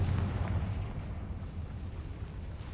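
A Confringo fire-blast spell explodes in the video game Hogwarts Legacy, a loud low boom at the start that rolls away into a fading rumble.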